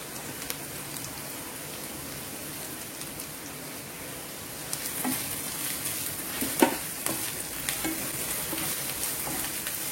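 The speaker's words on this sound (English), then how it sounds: "Saute it till it is brown in color. Should fry very nicely." Chopped chilies sautéing in a hot pan give a steady, even sizzle and crackle throughout, with a few louder pops and spatters toward the middle, heard alone with no talking.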